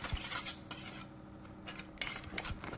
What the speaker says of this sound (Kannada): ಇದನ್ನು ನೀಟಾಗಿ ಗಂಟಿಲ್ದಂಗೆ ಮಿಕ್ಸ್ ಮಾಡಿ